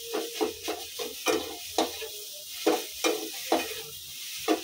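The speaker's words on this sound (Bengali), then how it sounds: "একটু শুকনো শুকনো করে আর কি এটা ভেজে নিতে হবে।" Dry semolina (suji) fries in a pan for a spicy suji dish, with a soft sizzle under repeated rhythmic stirring scrapes of a spoon, close and steady, no speech.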